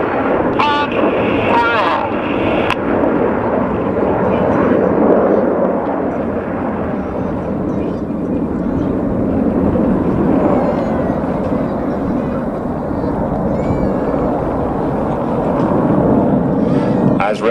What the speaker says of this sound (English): As the aircraft enter the second of those rolls